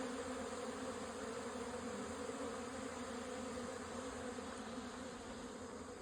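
Honeybees at an apiary hive buzz in a dense, steady swarm drone close by, continuous and even throughout with no talking.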